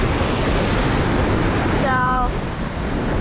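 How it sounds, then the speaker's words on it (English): Strong wind blasts across the microphone at the shore during a spring tautog fishing trip, making a loud, constant, rushing roar. Someone briefly says a word over it. "it's a bit windy. The wind's coming from the face."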